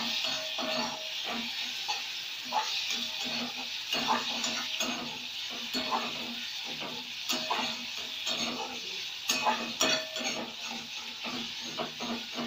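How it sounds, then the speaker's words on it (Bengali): Egg masala with mashed pear being stirred and sautéed in a pan, with a steady sizzle and repeated scraping stir strokes running throughout. "এবং আমি এটাকে কষাতে থাকবো"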